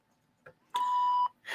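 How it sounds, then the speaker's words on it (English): An answering machine gives a single clean electronic beep, a steady tone of about half a second, preceded by small clicks and followed by the start of a voice. "Please leave your name and phone number after the beep."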